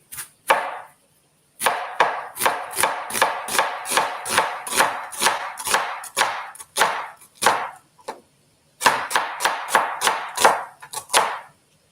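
A knife chops frozen onions on a board in quick, even strokes, about twenty crisp close thuds with a short pause partway before the rhythm picks up again.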